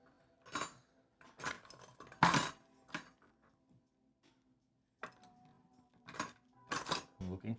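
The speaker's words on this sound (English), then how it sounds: "I'm looking for screws. There's a lot of them." Loose metal PC case screws clatter and clink as a hand rummages through a pile during a PC build, in several short bursts separated by quiet pauses.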